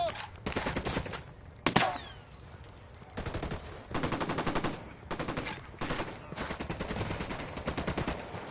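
Gunfire in the video game Ghost Recon Wildlands, heard as repeated automatic bursts of rapid shots separated by short pauses, with one sharp louder crack early on, steady and fairly close throughout.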